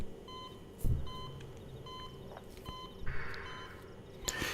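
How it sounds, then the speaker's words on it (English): Electronic beeping from the game Xenoblade Chronicles X repeats in a soft, regular series of short tones, with a few dull thumps and a brief hiss underneath, no voices. "How long was that beeping while he was in there asleep?"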